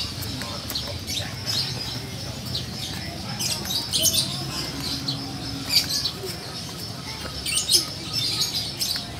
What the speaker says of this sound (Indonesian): Burung merpati.